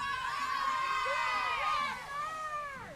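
Youth cheer team of a youth football league cheering at a Christmas parade in Belleview, Florida, a chorus of high young voices shouting and chanting together, fairly near and continuous, fading slightly toward the end.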